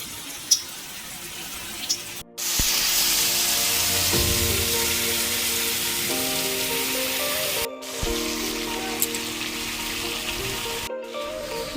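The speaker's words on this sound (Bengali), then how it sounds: "এখানে তেল গরম হচ্ছে চিংড়ি মাছ ভাজবো" Oil heating in a pan for frying prawns gives a loud, steady hiss and crackle that holds for several seconds, broken by brief dropouts, with a tonal hum sounding beneath it.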